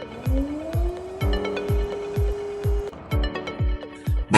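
A skid steer loader's engine cranks and starts, with a rising whine as it catches, then settles into a loud idle marked by regular, evenly spaced knocking pulses.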